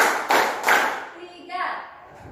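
In a counting clap game led by a teacher, a group of children claps in a few sharp bursts, spaced unevenly and fading, with a voice speaking between the claps.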